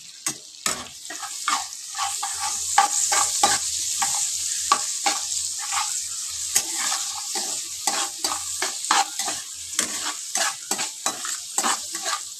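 Onions and chillies frying in a pan while being stirred, with frequent scraping clatters of a spoon against the pan over a soft, continuous sizzle, close and irregular throughout.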